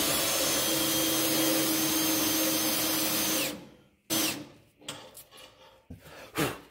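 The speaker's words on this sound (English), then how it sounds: "bits like this, you want to run them at a slower speed, drill speed, not a super high speed" A power drill running steadily at slow speed while boring holes to mount a rear rack on a Jeep Wrangler JLU Rubicon diesel, a loud continuous whine that cuts off, followed by a few short bursts and clunks.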